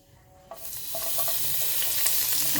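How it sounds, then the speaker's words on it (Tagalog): Ginger hits hot oil in a pan for Filipino chicken tinola, starting with a sudden sizzle that swells into a loud, steady frying hiss. It is heard close up, with no talking. "So, gisahin lang natin hanggang sa mag-brown."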